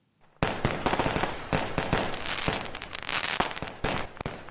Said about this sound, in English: we need to talk fireworks.